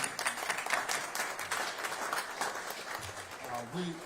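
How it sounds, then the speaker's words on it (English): Audience applause at a city government hearing, a dense patter of clapping that holds steady for about four seconds, with a voice starting to speak over it near the end. "Let's give him and his team another round of applause, please."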